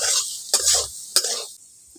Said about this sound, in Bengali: হলুদ গুঁড়ো লবণ দিয়ে ভালো করে আলুটাকে একটু নাড়াচাড়া করে ভেজে নিচ্ছি